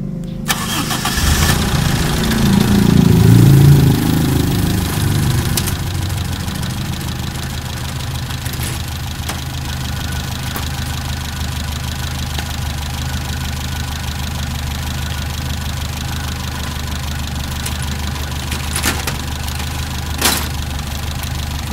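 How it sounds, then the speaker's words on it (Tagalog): A car engine cranks and fires, then settles into a steady idle at normal operating temperature during a spark plug test, with a loud start followed by an even low drone and a few brief clicks. "Okay, so pawandarin ko na yung makina."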